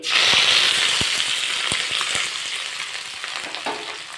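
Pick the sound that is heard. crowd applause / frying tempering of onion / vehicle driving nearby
frying tempering of onion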